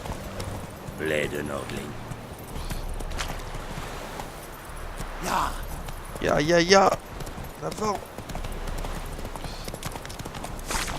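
A horse runs in The Witcher 3, its hoofbeats a quick, continuous patter under a voice and game sounds, with a louder burst of activity midway.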